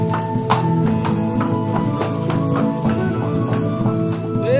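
Horse hooves clip-clop steadily on stone at a crusader-era site in ancient Acre, regular taps ringing through a continuous busy background hum.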